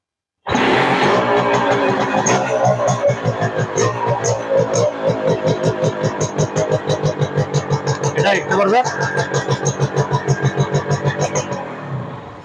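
Used motorcycle starts up and idles, its engine firing in a loud, steady rhythmic putter that continues throughout, with a brief rev midway.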